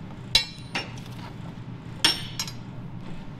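Hammer blows on a warped, welded steel plate in an off-road axle build: a few sharp, ringing metallic strikes land irregularly, close and fairly loud, over a low steady background hum.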